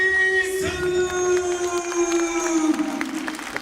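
Crowd at a K-1 MAX kickboxing final in Yokohama Arena, cheering and roaring loudly beneath a sustained horn-like drone, the noise swelling and fluctuating continuously.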